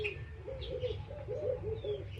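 Doves coo outdoors in a steady repeating rhythm, several soft calls in a row, with faint higher bird chirps scattered over a low background hum.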